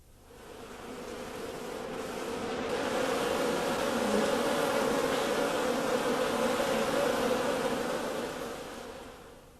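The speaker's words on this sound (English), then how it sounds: "The honeybee, Apis mellifera, is collecting nectar on the flowers of the mustard plant." A honeybee (Apis mellifera) collects nectar on mustard flowers outdoors, giving a continuous close buzzing drone that stays steady for the whole stretch.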